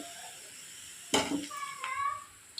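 Onions hit hot oil with chili and tamarind nearby, starting with a sudden sizzle and spatter, then a soft continuous frying hiss with a few utensil scrapes and clinks in a home kitchen.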